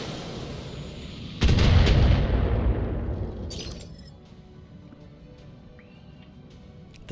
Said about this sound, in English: The PPC shot just went wide.